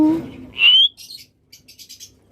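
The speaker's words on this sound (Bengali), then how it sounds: "বিগ সাইজের পাখি একদম বিগ সাইজের পাখি" Large pet birds, such as cockatiels, chirp up close: a bright rising whistle-like call followed by several short, high twittering chirps in quick bursts, loud and clear with no talk.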